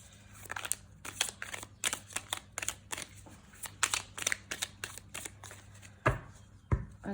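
Tarot cards are shuffled by hand close up, a run of quick crisp riffles and slaps in uneven bursts, with a louder thump near the end.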